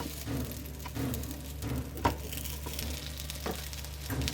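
Quinoa cutlets pan-roasting in a little oil give off a steady, low sizzle with a soft crackle throughout, close up and alone, with one brief sharper tick midway.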